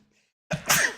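A single short, sharp sneeze bursting out after a brief silence, close and fairly loud.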